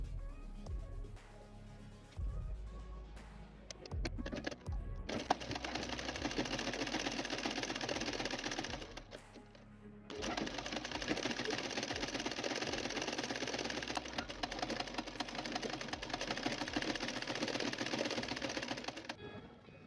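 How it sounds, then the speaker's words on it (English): A sewing machine stitches along a fabric strip in two long continuous runs, its fast mechanical whir close and steady, with a brief pause between runs and a few handling clicks before it starts. "And then sew it from the beginning to the end of that 30 inches point."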